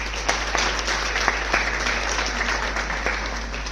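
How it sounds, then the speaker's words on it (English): Applause at an interdisciplinary national seminar hall for the event's organizers, a crowd of hands clapping steadily with a few sharper individual claps standing out, over a constant low electrical hum. "So please give a huge applause for all the organizers"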